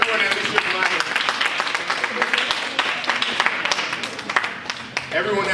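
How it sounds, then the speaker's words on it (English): A room full of teens bursts into sustained, dense applause, with many hands clapping close and loud for several seconds and a voice speaking faintly beneath it. "I'll give yourselves a round of applause"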